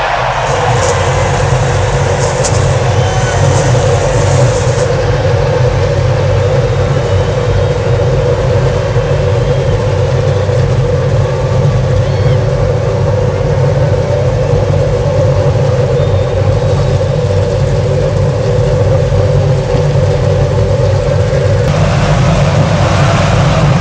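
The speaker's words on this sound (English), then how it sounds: "Gentlemen, start your engines!" Simulated IndyCar engines idling together on the starting grid for the Indianapolis 500 in a racing game, a loud, continuous low rumble and drone with steady intensity throughout and no talk.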